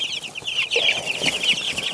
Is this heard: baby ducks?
yes